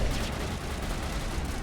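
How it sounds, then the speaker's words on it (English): Explosions in the Mass Effect video game build into a dense, continuous blast of roaring noise, loud and unbroken across the brief moment. "So he threw down some explosions."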